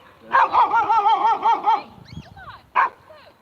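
Dogs bark in a quick run of about eight rhythmic yaps, followed by a brief whimper and one more sharp bark, loud and close with no talk over them.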